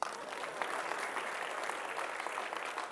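A church congregation claps during a sermon, a moderately quiet, steady patter of many hands heard from across the room, with no talking.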